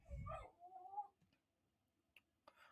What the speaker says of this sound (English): I have no idea why this dog is crying